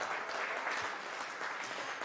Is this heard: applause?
yes